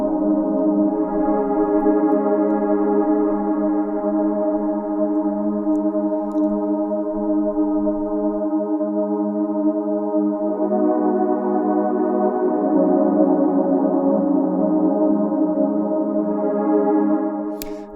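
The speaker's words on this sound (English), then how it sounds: "I'm basically taking a patch and turning it into a pad by loading tons of reverb and echo onto it and other effects" Sustained synth pad built from an Omnisphere patch drenched in reverb and echo, thick harmonic layers holding steady chords that shift partway through, swelling loud and continuous with no voices.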